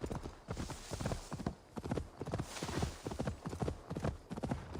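Horse hooves clip-clop in a quick, steady rhythm in Assassin's Creed Valhalla, fairly close and continuous, with no talking over them.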